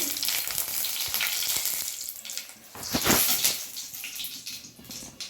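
Cumin seeds, a torn dried red chilli and a bay leaf sizzle in hot oil in a pan, a steady close crackling fry with a brief louder hiss burst midway and faint stirring, no talking.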